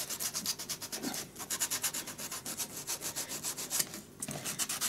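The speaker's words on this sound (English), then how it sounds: "You can actually just sand these if you wanted." A small wooden piece is sanded by hand, close up, in steady, rhythmic back-and-forth strokes that rasp continuously for several seconds, with a brief pause near the end and no talking.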